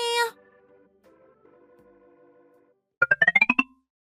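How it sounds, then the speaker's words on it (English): A phone's ringtone bursts out in a quick series of bright melodic tones near the end, after a short voice at the start and a stretch of quiet room hum. "Oh, your phone is ringing."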